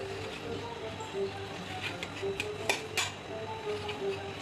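Idli being stirred in a pot for a breakfast spread: a few light metallic scrapes and clinks, close by, over a steady kitchen hum.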